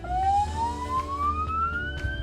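An ambulance siren wails on the road, a continuous loud tone gliding steadily upward with no voices over it.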